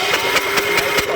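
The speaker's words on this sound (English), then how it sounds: "when I crank it over, we're going to want to watch that for spark" Engine of a neglected 1970s John Deere 212 lawn tractor being cranked over, with loud, close rhythmic chugging pulses repeating about every fifth of a second and no voices.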